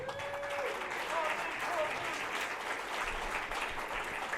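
A crowd at a community health forum breaks into sustained applause, steady and fairly loud, with some voices mixed in.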